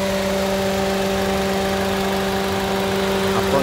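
A 2017 Honda Brio E with a manual transmission idles steadily at close range, its engine giving a continuous, even hum with a constant tone and no revving, and nobody talks over it.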